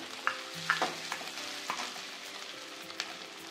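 Two chopped onions fry in a pan with mint for chicken munnakkaya curry, a soft steady sizzle broken by several sharp scraping clicks as a spoon stirs them up close.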